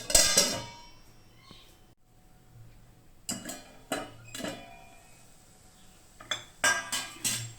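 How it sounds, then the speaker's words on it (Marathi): A metal lid goes onto a pot of semolina sheera cooked with milk and sugar, making a few separate metallic clanks and rattles with quiet gaps between them, close by. "झाकण ठेवते।"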